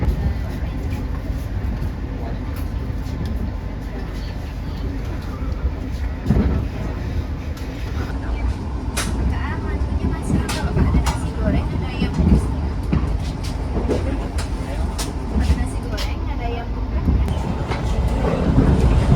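The KA Jayabaya economy train runs from Malang toward Surabaya Pasar Turi, a steady heavy rumble of rolling wheels with faint rhythmic clatter, heard from inside the carriage.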